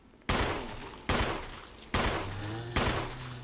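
Four sharp, loud pistol shots spaced about a second apart in the Resident Evil game, each ending in a short echoing ring, with no talking.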